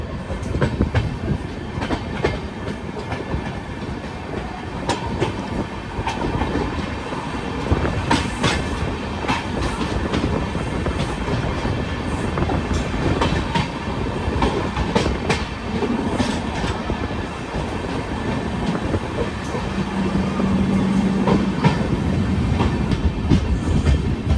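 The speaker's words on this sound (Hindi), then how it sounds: "सामने कोई ट्रेन बरेली जंक्शन NR पे अराइव कर रही है।" A train arriving at Bareilly Junction station in India, heard from aboard a special passenger train: steady loud rumble with rhythmic wheel clatter and occasional metallic squeal throughout, no voices.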